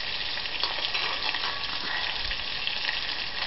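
Meatballs for sweet meatballs fry in a pan, giving a steady, close, crackling sizzle that holds evenly throughout without any voices.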